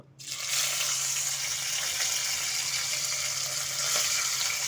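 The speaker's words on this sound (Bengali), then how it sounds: "মাছ ভাজার তেলেই আমি এখন চাপলা মাছটা ভেজে নেব" Chapila fish frying in oil left over from frying small fish, a steady, loud, even sizzle that starts almost at once and holds without a break.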